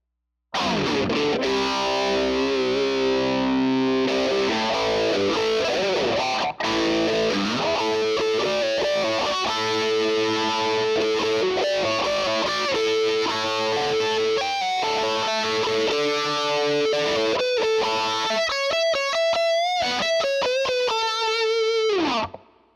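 A heavily distorted electric guitar plays chords and then a rising lead line, with a sweeping phaser swirl colouring the sustained notes, loud and continuous.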